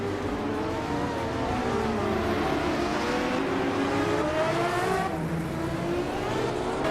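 A 1982 Lancia LC1 and other race cars pulling away from the start in a racing video game, a loud steady engine roar with pitch rising and shifting as they accelerate, no talking.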